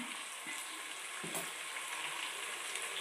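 Raw prawns fry steadily in a pan for biryani, giving a continuous close sizzle with faint stirring scrapes and no voices.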